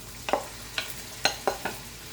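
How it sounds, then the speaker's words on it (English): Cabbage, onions and ham frying in a pan, heard as five sharp, separate clicks and scrapes of stirring spaced through a quiet, faint sizzling background. "I'm going to fry that up with it"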